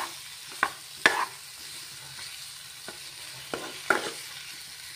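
Magur catfish frying in a pan, a soft steady sizzle under a few sharp utensil clinks and stirring knocks spaced through the clip, close and moderately quiet.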